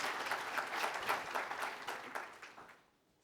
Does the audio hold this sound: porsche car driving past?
no